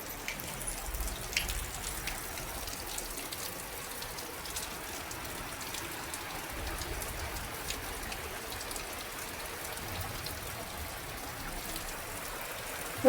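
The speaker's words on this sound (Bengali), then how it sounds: "বাইরে প্রচন্ড বৃষ্টি" Heavy rain falls in a steady, even hiss during a storm, heard indoors at a moderate, unbroken level with no talking.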